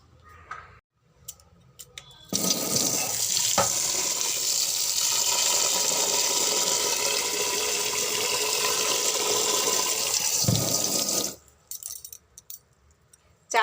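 Rice is washed and squeezed by hand in water, a loud close running gush of water sloshing steadily for about nine seconds before cutting off into quiet clinks.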